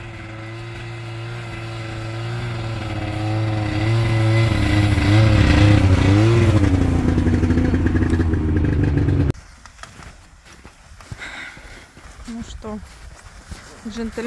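A vehicle at a spring apiary turns around and pulls away, its engine humming steadily and rising in pitch as it revs, then dropping off abruptly, followed by quieter outdoor noise.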